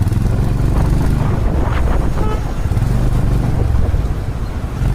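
A Honda Hyness CB350 motorcycle engine runs with a steady low thumping rumble, loud and close, with some wind buffeting and a slight change in pitch midway.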